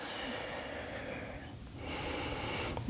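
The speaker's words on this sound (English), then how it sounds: "Couple breaths." Slow, audible breathing during a yoga triangle pose, a soft airy inhale and exhale up close with a brief pause between them.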